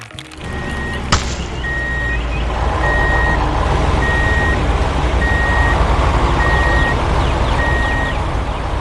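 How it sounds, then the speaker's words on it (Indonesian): Siemens concrete mixer truck arriving and backing up, a loud diesel rumble under a regular series of about seven evenly spaced reversing beeps, preceded by a sharp knock near the start. "Lihat, truk mixer Siemens sudah datang."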